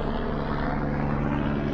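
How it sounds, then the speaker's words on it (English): A police helicopter flies overhead, producing a continuous, loud droning rotor and engine rumble that stays constant throughout, with no talking. "That's a helicopter."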